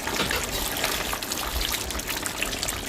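Water pouring into a cooking pot of fish curry on the stove, a steady broadband trickle and splash running continuously and close, with no voices.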